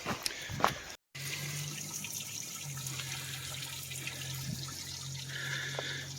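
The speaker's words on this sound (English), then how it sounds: "Beautiful little stream crossing." A small stream at a trail crossing on the Yamacraw Trail loop in Big South Fork, its water running in a steady, moderately close wash with a faint low hum beneath and no voices.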